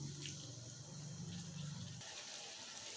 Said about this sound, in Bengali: এখন মশলাটা কষিয়ে নেওয়ার জন্য একটু জল দেব